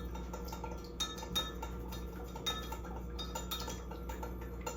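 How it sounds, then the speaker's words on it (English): A spoon stirs coffee and sugar in a glass, giving a steady run of light metallic clinks and taps against the glass, close and fairly quiet, with no talking. "So I'm gonna be stirring this here, making sure all my sugar, gets stirred and dissolved."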